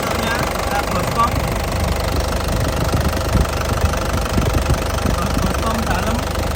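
A warmed-up diesel engine in a 2010 Isuzu Panther LS Turbo idles with a loud, close, rough knocking rumble that holds steady, while a voice talks over it.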